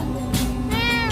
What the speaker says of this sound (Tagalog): Parang pusa yun ah.